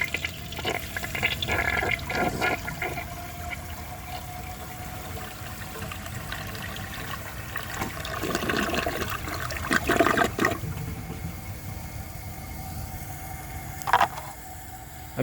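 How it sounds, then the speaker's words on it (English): A 1983 Crane Radcliffe toilet flushes quietly, with rushing water draining from the bowl and then a long steady trickle as the tank refills, fairly faint and close with no voices. "has a more than long enough flush to remove all of that"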